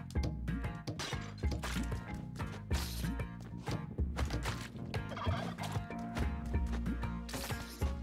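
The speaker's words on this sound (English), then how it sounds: "Oh, I've got a glut of turkeys." A crowd of turkeys in the video game Spelunky 2 gobbles continuously in loud, overlapping bursts, mixed with scattered thwacks and clattering game noises, with no talk.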